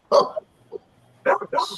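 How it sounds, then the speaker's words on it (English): A dog barks in a few short, sharp bursts with a quiet pause between them, heard at moderate distance with no talking over it. "my dog has been barking all through this one"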